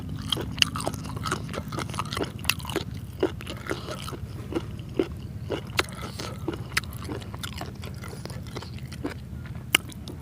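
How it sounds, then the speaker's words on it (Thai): Close, crunchy chewing of giant octopus tentacles with repeated sharp bites and crackles at an irregular pace over a low background hum. "เสียงกรุบกรุบ"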